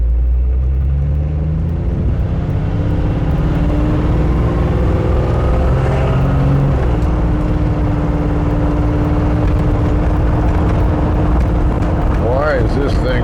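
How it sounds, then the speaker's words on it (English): Cars drive in heavy traffic in Quartzsite, a constant low engine rumble and road noise heard from inside a vehicle, with passing vehicles and tonal shifts as engines change speed. "There's actually cars here."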